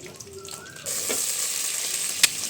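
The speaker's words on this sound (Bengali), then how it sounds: "তেলটা ভালোভাবে গরম হয়ে গেছে এর মধ্যে চিংড়ি মাছ দিয়ে দিব" Shrimp hitting hot oil in a clay pot set off a sudden loud, steady sizzle that carries on without a break, with a brief sharp clink near the end.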